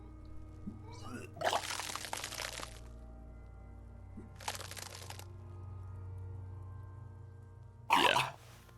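Retching and vomiting in the video game Disco Elysium: three separate wet, crackling splashes that come in bursts, the last short and sharp, over a low, quiet ambient drone.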